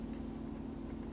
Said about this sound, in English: That's the sound of an engine idling.